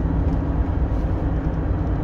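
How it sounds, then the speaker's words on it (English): A helicopter flies overhead near a bridge work site with a dump truck, giving a dense, loud low rumble with fast rotor pulsing, close and continuous. "There's a helicopter up here."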